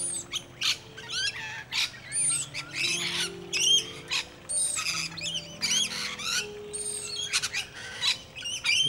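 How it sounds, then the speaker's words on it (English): Early-morning mixed flock of rainbow lorikeets and noisy miners at a backyard bird sanctuary around 5 a.m., a busy tangle of shrill chirps, squawks and whistling calls coming in rapid overlapping bursts, close and lively. "These are my rainbow lorikeets. It's a mixed flock though. It's not just rainbow lorikeets, there are noisy miners"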